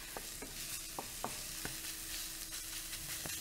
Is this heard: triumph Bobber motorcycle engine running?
no